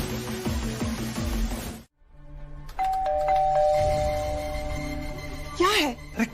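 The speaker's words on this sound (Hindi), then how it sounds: "कितनी घंटी बजाओगी?" A doorbell rings several times in quick succession inside a home in a Hindi TV drama scene, its bright tones clear and close, with people talking around the rings.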